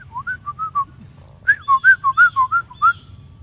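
A series of short, clear whistle-like calls rings out close and loud, a first group of five quick notes, a pause, then a longer run of about eight rising and falling chirps over a faint low hum.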